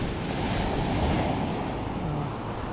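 Sea waves wash onto the shore on a cold, breezy beach, a continuous loud roar of surf mixed with wind buffeting the microphone.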